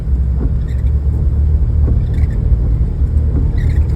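Car engine under acceleration during a driving lesson, a steady loud low rumble with slight surging, close and continuous throughout, no speech.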